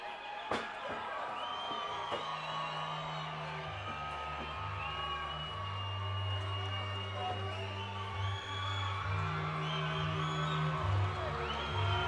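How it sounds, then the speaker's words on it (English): Crowd roaring and whooping as a fighter walks into the Tough Enough cage, a dense, sustained mass of shouting with entrance music or arena noise beneath and occasional sharp bangs. "As you hear the crowd start to scream"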